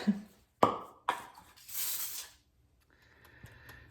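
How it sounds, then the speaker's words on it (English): A can of movie theater butter spray hisses in a short burst after a few clicks and taps, followed by quiet kitchen background. "I'm spraying mine with some movie theater butter."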